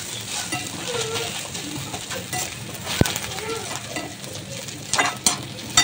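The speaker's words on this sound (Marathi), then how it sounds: "आता कांदा आपला छान परतत आलेला आहे, अजून थोडा लाल झाला पाहिजे" Steady crackling sizzle of onions frying in a pan until browned, with a few sharper stirring scrapes toward the end.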